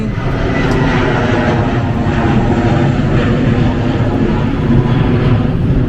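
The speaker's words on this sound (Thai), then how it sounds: "ดังนั้นเนี่ยเสียงเครื่องบินก็จะดังมากเป็นปกติ" Airplane engine roar passing overhead near LaGuardia Airport in Flushing, New York, a steady, loud broadband drone holding throughout with no break.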